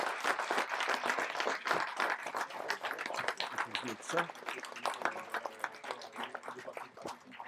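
A crowd at a French communist party anniversary meeting applauds as a speaker is called to the podium, dense and lively clapping with sharp individual claps near the front, steady throughout and then easing slightly.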